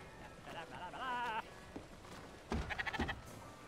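Video game sheep bleating in two short bursts, a wavering bleat followed later by a stuttering series, heard in an indoor game setting with a voice speaking nearby.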